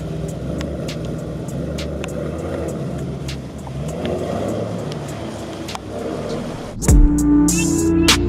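A Mercedes-AMG E63 S with 604 brake horsepower driving, a steady low engine and road rumble heard from inside the cabin, ending in a sudden louder surge with a rising tone.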